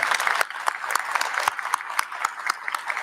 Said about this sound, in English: Let's applaud them and thank them.